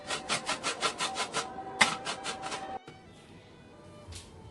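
Bottle gourd (lauki) rubbed against a kitchen grater in quick, even back-and-forth rasping strokes, a steady rhythmic series up close that stops abruptly, leaving quiet room tone.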